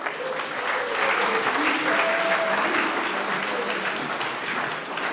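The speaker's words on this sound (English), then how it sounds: "Please, round of applause." An audience at a conference's closing ceremony gives sustained, dense applause that holds steady for several seconds, with a few faint voices mixed in.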